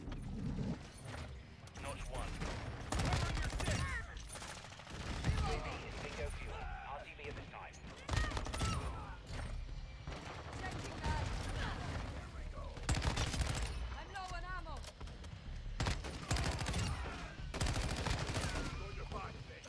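Chimera assault rifle fire in Modern Warfare 2 rattles in rapid automatic bursts, loud and repeated across the clip, with a player talking over the shooting.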